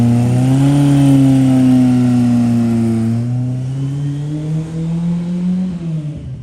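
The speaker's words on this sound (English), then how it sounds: "I thought we'd have a little video of Ed cruising up" A car engine cruises up close on a sunny day in Retford. Its tonal hum holds steady, drops slightly in pitch, then cuts off near the end.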